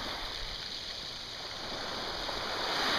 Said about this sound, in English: Listen, the water goes out over the rocks.